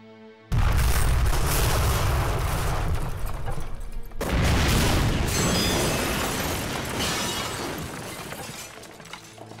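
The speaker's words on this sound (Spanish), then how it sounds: "Deben explotar en 2 minutos." Loud explosions in a TV war drama: a sudden heavy blast with crackling debris, a second burst around four seconds in, then a long rumbling, shattering tail that slowly fades.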